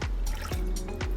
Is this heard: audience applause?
no